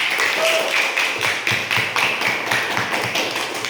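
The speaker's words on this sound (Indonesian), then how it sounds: "Tepuk tangan dulu." A class claps hands after a group presentation, a brisk, even run of many overlapping claps lasting a few seconds, fairly close and loud with no talk.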